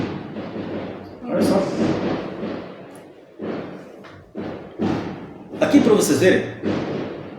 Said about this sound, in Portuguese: É um tiroteio que está ali fora, são fogos de artifício.